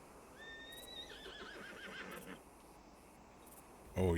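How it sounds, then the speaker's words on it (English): A horse in Red Dead Redemption 2 gives one loud, rising whinny that falls away over about two seconds, with soft ambient game background and a thump at the end. "Oh, you loud horse."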